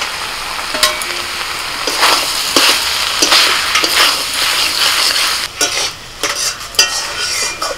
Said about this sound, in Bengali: ভাজা বেগুন দিয়ে দিচ্ছি।